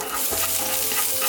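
Ginger and spring onions stir-frying in a wok: a loud, close, steady hiss of sizzling oil with brief scraping from stirring, no voices.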